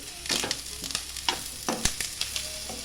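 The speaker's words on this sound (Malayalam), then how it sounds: "ഒരു അര മിനിറ്റ് കഴിയുമ്പോൾ ഉള്ളി ഇട്ട് വേവിക്കുക. എന്നിട്ട് അതൊന്ന് ഇളക്കി കൊടുക്കുക." Onions fry and sizzle in a pan while a utensil stirs them in repeated scraping strokes, close and clear with a steady sizzle underneath.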